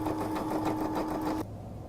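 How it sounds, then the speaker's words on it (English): A Brother PE 500 embroidery machine sews a satin stitch, its rapid steady needle chatter close and even before stopping abruptly near the end, leaving a quieter hum. "It'll go around in the circle doing a satin stitch."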